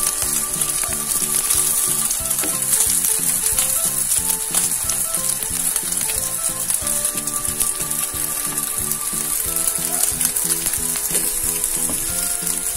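A hamburger patty frying in a pan gives a steady, loud sizzle with light stirring and scraping, running continuously with no voices.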